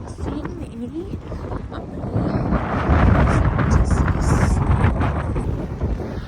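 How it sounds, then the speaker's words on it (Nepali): Strong wind blowing outdoors in Sweden buffets the microphone with a steady low roar that swells louder midway and stays loud to the end, with no talking. "यस्तो हावा चलेन नि साथीहरू यो एरियामा"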